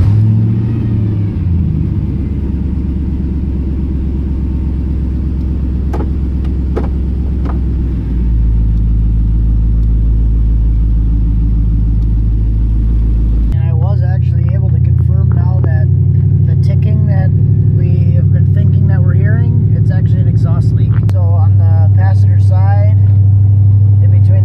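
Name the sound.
LS-swapped Ford Ranger truck driving and accelerating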